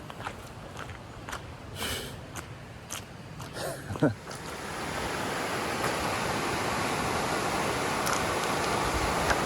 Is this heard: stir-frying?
no